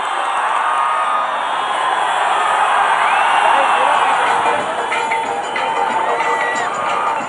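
A large crowd outside Surat jail welcoming Patidar quota agitation leader Hardik Patel on his release, a dense roar of cheering and shouting voices that stays loud and continuous throughout.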